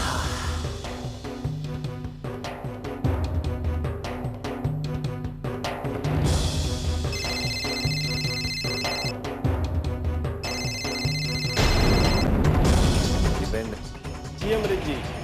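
A phone rings during a call in a Hindi TV serial, with repeated bursts of ring tone over dramatic background music and crashing hits, loud and close.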